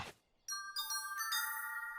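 A cartoon-style bell sound effect from Mickey Mouse Clubhouse: bright, clear chimed tones struck in quick succession, layering into a ringing, sustained metallic chord after a brief soft whoosh at the start.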